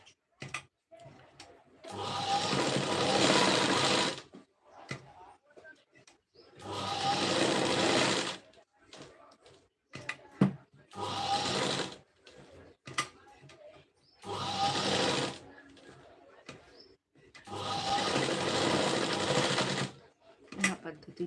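A sewing machine stitches a designer blouse sleeve in five loud bursts of rapid whirring, separated by quiet pauses, with a voice speaking between and over the runs.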